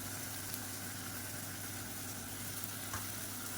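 Ginger garlic paste sautéing in a pan, a soft, steady hiss of frying that stays faint and even throughout with no voices.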